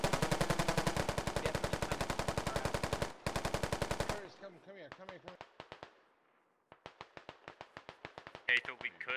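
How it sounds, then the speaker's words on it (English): Gunfire in the tactical shooter Squad: a long, steady automatic burst of rapid rounds, then a short pause and further irregular volleys of single and rapid shots, partly distant, with radio-style talk. "And they are firing at the wrong hill."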